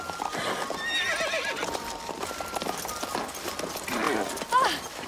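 Horses being ridden clip-clop along at a steady pace, hooves clear and close, with a horse neighing partway through and people talking over the hoofbeats.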